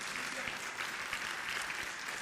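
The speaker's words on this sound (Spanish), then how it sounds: "Denle un aplauso al Señor" A church congregation claps in applause during a service, a dense, steady wash of hands filling the space throughout, with voices faintly mixed in.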